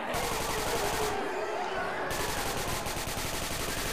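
Rapid rifle gunfire in the video game Left 4 Dead 2, a dense, loud stream of automatic shots with a brief lull, over a continuous noisy game backdrop.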